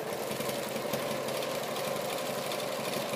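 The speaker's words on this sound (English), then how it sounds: "So now I'm going to zigzag stitch" A sewing machine runs steadily while zigzag stitching the center seam of strips for a tote bag, a continuous close mechanical hum and whir with no talk.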